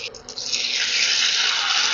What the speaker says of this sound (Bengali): এবারে আস্তে করে তেলের মধ্যে ছেড়ে দিচ্ছি